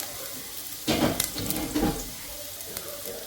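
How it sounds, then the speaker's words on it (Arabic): Finely chopped onion hits a hot pan for Iraqi qozi, giving a sudden loud sizzling burst with a second surge, then settling into a quieter steady fry. "حمسه"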